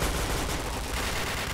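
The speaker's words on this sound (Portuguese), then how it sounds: "Tomou tiro mesmo." Dense, continuous automatic gunfire from the online shooter game CrossFire, loud and close, with overlapping bursts packed tightly together and no voices.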